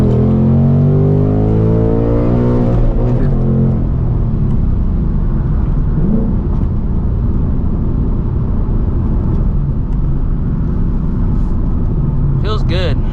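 A Ford S650 Mustang GT pulls hard in second gear, its engine roar climbing steadily and loud from inside the cabin, with a person speaking over it at the start.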